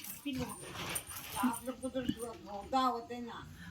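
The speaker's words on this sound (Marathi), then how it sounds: "कुत्र्याचं पिलू कसं काय आलं बरं इकडे हे एवढं छोटं पिल्लू कुत्र्याचं" A tiny stray puppy whimpers and yips in repeated short, high, wavering cries, close by, while people talk over and around it.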